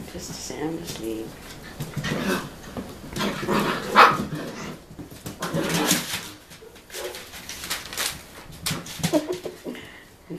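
Five-week-old puppies playing together, yapping and barking in short bursts close by while people talk over them, with birds cooing faintly in the background.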